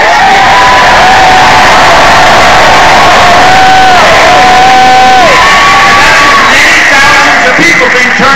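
A huge crowd of over 10,000 at a Donald Trump rally in Rochester, NY, roars and cheers continuously and very loudly from within the audience, with whoops and shouts rising over the din.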